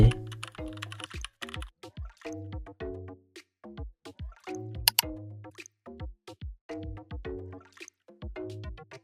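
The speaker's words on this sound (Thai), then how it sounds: "ก็พิมพ์เบอร์โทรของเราใส่" A phone number is keyed in on a keyboard. Quiet, crisp clicks come in quick irregular bursts with short pauses between runs, close to the mic, and nobody speaks.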